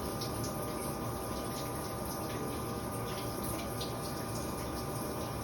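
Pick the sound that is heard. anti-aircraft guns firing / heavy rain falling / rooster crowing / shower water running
shower water running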